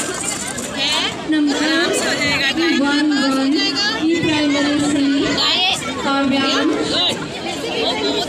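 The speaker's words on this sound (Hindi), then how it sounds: "इतनी भीड़ है कि आपको सुनाई दे रहा होगा" Dense crowd chatter fills a busy village fair, a continuous loud babble of many voices with nearer voices speaking over the hubbub throughout.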